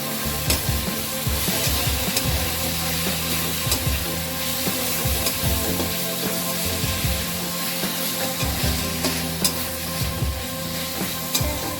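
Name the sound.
frying cumin and coriander powder in a pan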